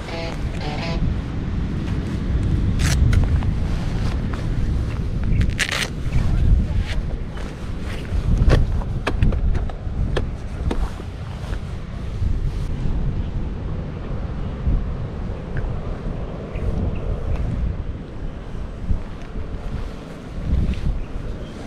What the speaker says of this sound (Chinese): 今晚在强大的海风作用下，考验着帐篷的抗风能力，我也在不断摇晃的帐篷下，伴随着海浪翻腾的轰鸣声中度过。